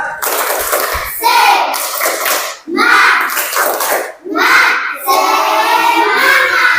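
Children in a classroom perform a rhythmic spirit clap, loud bursts of patterned clapping in several phrases with short pauses between them, mixed with children's chanting voices.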